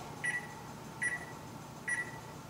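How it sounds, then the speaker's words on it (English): A kitchen timer being set for baking cupcakes gives three short, clear electronic beeps, evenly spaced about a second apart, over a quiet room. "I'm gonna set my timer for the time that is necessary for that cupcake"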